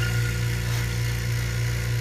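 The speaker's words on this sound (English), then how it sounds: "So what you're hearing is the vacuum chamber." A vacuum pump drones steadily up close, evacuating a chamber holding liquid nitrogen, with a low rhythmic chugging pulse under a constant mechanical hum.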